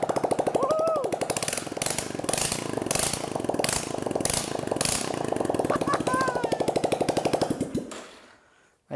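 A Royal Enfield engine in a motocross build, with no exhaust fitted, fires up and runs with a loud, rapid, harsh staccato beat. It holds steady for several seconds, then cuts off abruptly, with brief voices over it.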